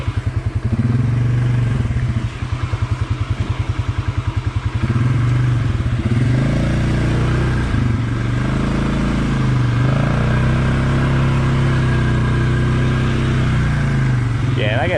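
A 450 dirt bike fitted with an EPI clutch kit climbs hills over bumps and rocks at light throttle, its engine close and loud with a rapid rhythmic putter early, then a steady rising and falling drone.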